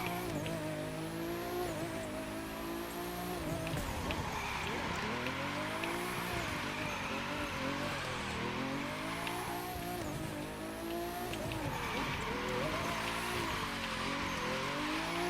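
A car drifting sideways in The Crew 2 racing game, loud continuous engine revving with repeated rising and falling pitch sweeps and steady tire squeal throughout, no talking.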